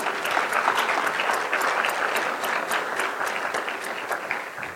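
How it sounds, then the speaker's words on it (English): Sustained audience applause at a corporate keynote address, a dense even wash of many hands clapping that stays loud throughout and tapers only slightly at the end, with no talking. "I'm going to clap for the organization"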